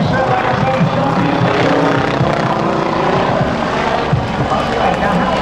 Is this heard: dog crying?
no